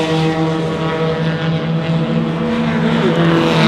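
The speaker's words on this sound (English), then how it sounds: "Parrish have got a slight gap on Wooler on the run down the back straight" Race cars in an Australian circuit race thunder down the back straight, a loud, steady engine drone with sustained tonal whine filling the whole stretch, no pauses.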